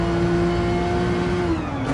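Porsche race car engine in Gran Turismo Sport at Spa, holding a steady high-revving drone close up with a slight pitch drop near the end, alone with no voices.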